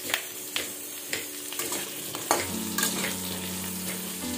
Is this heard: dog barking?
no